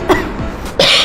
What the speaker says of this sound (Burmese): ချောင်းဆိုးနေတယ်